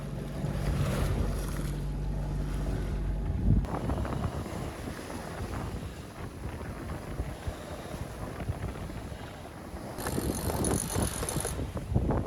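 A boat engine hums steadily at a rough anchorage, partly buried under wind buffeting the microphone and the wash of waves. The low drone stops partway through, and wind and water noise carry on alone.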